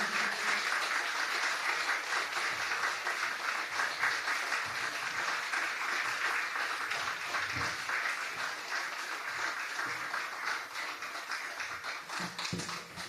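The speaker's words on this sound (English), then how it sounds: "a big round of applause to all of our performers tonight" Steady applause from an audience for performers at an evening event, dense clapping sustained for over twelve seconds at moderate, even volume, fading slightly toward the end.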